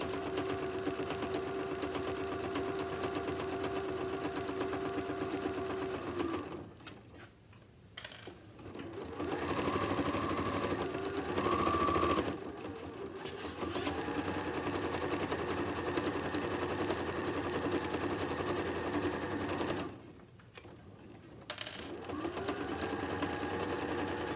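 Sewing machine stitching a tote bag along a folded edge, running steadily and close with two brief pauses where the needle stops before resuming.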